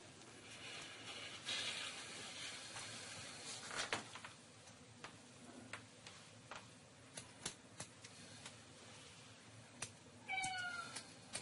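A domestic cat meows in a hallway, faint and somewhat distant, with a few soft cries spread over a quiet indoor background and a brief clearer call near the end.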